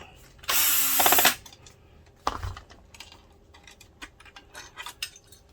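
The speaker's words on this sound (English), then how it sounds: "I just have to take these two screws out, take the lamp assembly out" A power screwdriver removing screws from an Optoma EH341 DLP projector during a lamp and color wheel repair: one loud, close whirring burst of just under a second, followed by a sharp clunk and scattered quieter taps and handling clicks.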